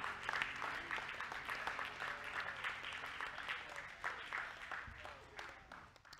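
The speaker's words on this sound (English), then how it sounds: "Let's give the Lord a hand clap of praise." A church congregation claps in praise at a worship service, steady and sustained. Many hands sound fairly far off, with voices and cheering mixed in under the clapping.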